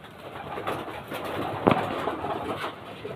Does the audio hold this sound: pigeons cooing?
yes